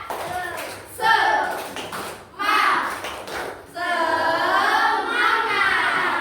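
Schoolchildren in a classroom chant and clap a rhythmic spirit clap in short bursts, their voices and hand claps rising together in three bouts with brief pauses between.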